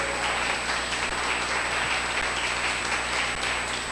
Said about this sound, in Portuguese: Dá um aplauso bem forte para o Senhor Jesus